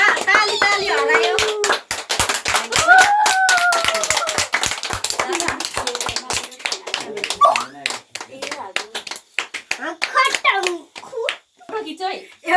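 A group claps at a family birthday surprise party, with a long run of brisk, rhythmic hand claps under excited children's and adults' voices.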